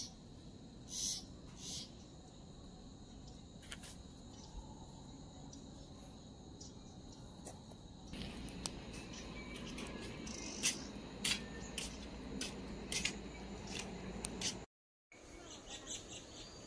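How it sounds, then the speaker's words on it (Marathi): At evening, birds in the trees call with scattered, repeated chirps and short tweets over a soft bed of insect hum, fairly faint and distant, with no voices. "संध्याकाळची वेळ आहे आणि झाडावरती पक्ष्यांचा इतका सुंदर आवाज येतोय"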